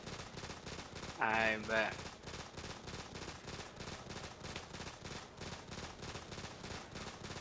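Rapid, sustained automatic gunfire from the Black Ops 3 Zombies video game on a custom map, a continuous fast rattle throughout, with a player briefly talking over it.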